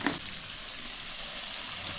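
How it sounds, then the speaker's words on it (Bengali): Potatoes fry in hot oil with salt and turmeric, giving a soft, even sizzle and crackle that carries on steadily and fairly quietly, with a slightly louder burst at the start and no talking. "তো এখন আলুটা ভাজা হচ্ছে"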